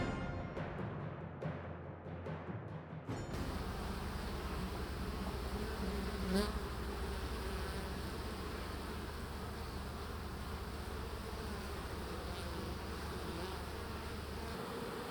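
Honeybees buzzing steadily around a hive, a dense continuous drone that stays near and even throughout, with a brief louder pass of a single bee partway through.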